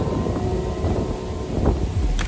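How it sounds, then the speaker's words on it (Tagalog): Rough wind gusts buffet the microphone over a dense, steady downpour in a forest in Tanay, Rizal, with low rumbling throughout the short stretch. "Pero biglang umulan na malakas. Lakas ng hangin."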